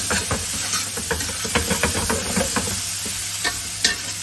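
Butter, lime juice and parsley are stirred in a hot pan, a constant sizzle with a low steady hum underneath and regular sharp scrapes and taps of the utensil, close and clear without talk.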